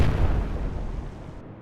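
Naval gunfire and explosions in the video game Atlantic Fleet, a loud, deep, rumbling blast that fades out over about a second.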